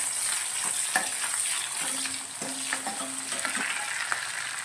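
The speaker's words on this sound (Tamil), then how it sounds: "பச்சை மிளகாய் சேர்த்துக்கோங்க. அதையும் நல்லா இது கூட சேர்த்து வதக்கிக்கோங்க" Green chilies sauté with ginger in a hot pan, a steady close sizzling hiss punctuated by light scraping and tapping of a spatula stirring, with no voices.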